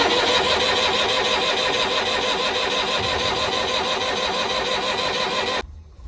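A Mustang tractor engine cranks continuously with a fast, even mechanical whir, loud and close, then cuts off abruptly near the end without catching.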